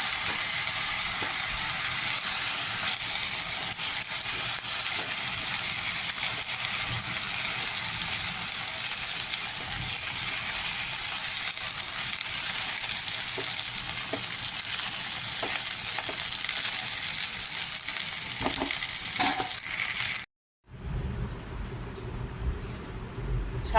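Mixed vegetables sizzle and fry in a pan for corn fried rice, a loud continuous crackling hiss close by with scattered scraping stir sounds, broken by a brief silence near the end before the frying resumes.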